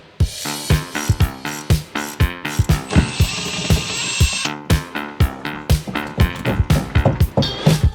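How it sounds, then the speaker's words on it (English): A ratchet clicks in quick, regular bursts while undoing bolts to remove the differential from a BMW E46, loud and close, with a brief steadier mechanical whir midway and no talk. "Remove the diff, few bolts, quick, easy and painless."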